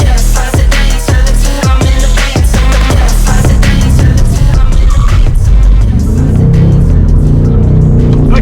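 A Ford Mustang S650 drives hard and close, with a loud engine note that rises and shifts through the gears, then tires squeal steadily as the car corners.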